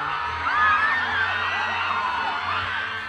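Festival crowd at Kadayawan in Davao cheering and whooping in a steady, dense roar of excited voices, with shouts rising over a low rumble and no clear speech.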